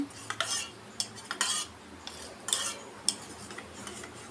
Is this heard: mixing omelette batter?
yes